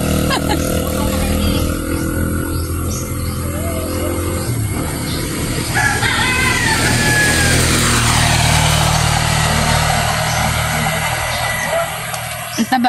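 A motorcycle engine runs loud and close, revving and shifting pitch, with voices talking over the rumble.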